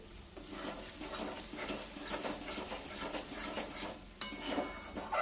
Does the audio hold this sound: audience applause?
no